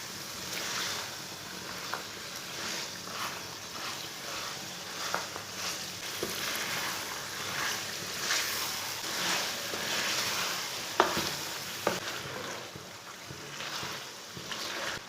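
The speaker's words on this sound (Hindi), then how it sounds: "चिकन डाल के इसे 5 मिनट के लिए अच्छी तरह भून लेना।" A steady, dense sizzle of chicken frying in masala in a pan continues throughout, with occasional soft clinks and scrapes close by.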